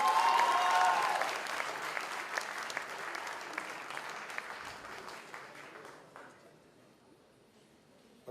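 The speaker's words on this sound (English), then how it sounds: "Give him a round of applause," An awards-night audience applauds the Chase Bank CEO at a banking ceremony: dense, steady clapping that is loudest at first, then thins and fades over the last two seconds.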